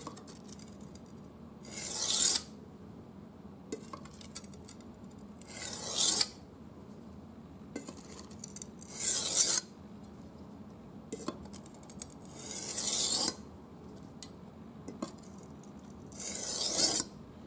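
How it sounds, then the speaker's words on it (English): A kitchen knife is sharpened on a whetstone with slow, regular gritty scraping strokes, six of them, up close and moderately loud, with faint clinks in the quiet gaps. "You can keep sharpening until you feel that the knife is totally sharp, at least on this grit."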